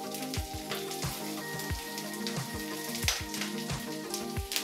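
Cumin seeds and garlic cloves crackle and sizzle steadily in hot oil as they are lightly roasted, a busy, close frying hiss with dense popping throughout.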